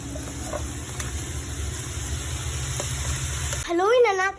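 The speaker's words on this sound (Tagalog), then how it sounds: "Haluin na natin kasi kumukulo na." Soup in a cooking pot boils with a steady, dense bubbling hiss that fills the clip, and a voice cuts in briefly at the very end.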